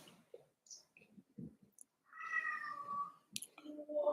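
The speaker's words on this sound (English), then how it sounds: "I don't know if you guys hear that, but that's the cat." A house cat meows in a few drawn-out, wavering cries indoors, quiet and close, with scattered clicks and small handling noises between calls.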